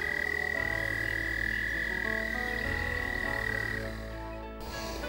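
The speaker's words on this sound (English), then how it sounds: "This shallow pond has tons of American toads." American toads in a shallow pond give a long, steady, high trilling call over a dense chorus of other calling toads. The sound is close and continuous and dips only slightly near the end.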